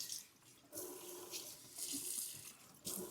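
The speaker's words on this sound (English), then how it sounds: "Water is coming out very nice." Water pouring from a waterfall-style four-hole kitchen faucet into a sink, a soft hissing splash that surges and eases in uneven bursts, close and fairly quiet, with no talking.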